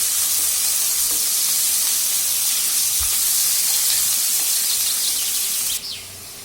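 Onions and curry leaves sauté in hot oil in a pan, giving a steady, loud, continuous sizzle and hiss that softens slightly near the end.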